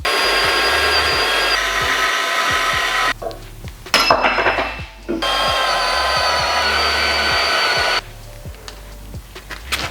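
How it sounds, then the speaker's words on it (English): A portable band saw cuts metal with a steady whining drone that stops and restarts a few times, broken by short gaps of quieter shop noise and occasional clicks. "I just really prefer to use a porta-band anytime I get the chance"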